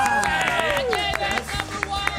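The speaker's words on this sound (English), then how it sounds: "Another round of applause for me." A studio audience at a sports talk program claps and cheers in a brief burst, with sharp hand claps over a crowd wash and music playing alongside.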